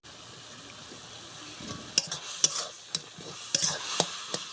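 Mixed leafy greens stirred in a pan with rice flour, with soft sizzling under a series of sharp spoon scrapes and clicks against the pan, close up and with no voices.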